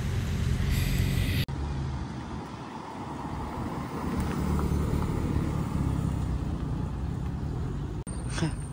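A small convoy of sports cars, including a Porsche 718 GT4, passes by in Gérardmer with a steady, broad engine and road roar that carries on throughout, mixed with wind buffeting on the microphone.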